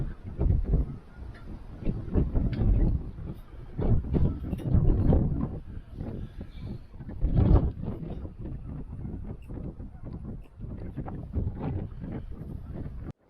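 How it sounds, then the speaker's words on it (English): Strong outdoor wind buffets the microphone beside a Primus camp stove set up with a griddle plate, loud rumbling gusts surging and easing throughout with no pause. "This wind is horrible."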